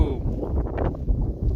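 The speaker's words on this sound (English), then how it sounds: "It's already getting windy." Wind blowing outdoors in cold weather, a steady loud rush and buffeting against the microphone throughout, with a few brief gusts.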